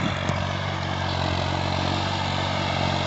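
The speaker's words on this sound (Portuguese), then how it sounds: "o trator tá arando bom" A 2021 Valtra A 950R tractor pulling a 14-disc intermediate harrow through soil gives a steady, continuous engine drone at moderate distance, even and unbroken throughout.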